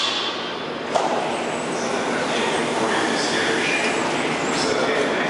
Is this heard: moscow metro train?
yes